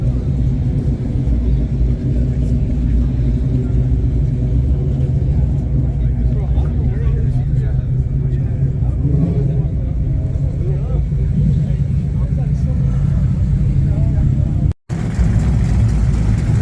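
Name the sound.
supercharged Corvette engines rumbling and revving at a car meet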